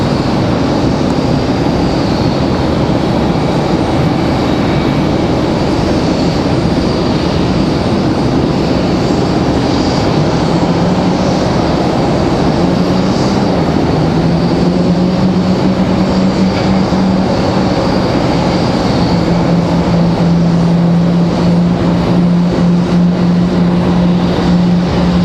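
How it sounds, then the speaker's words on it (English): A Delta Airbus A220 takes off for Boston at Raleigh-Durham, a loud, continuous jet engine roar filling the whole stretch, with a rising tonal hum coming in partway through. "So we got the Delta A220 off to Boston."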